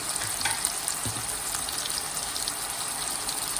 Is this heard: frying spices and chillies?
yes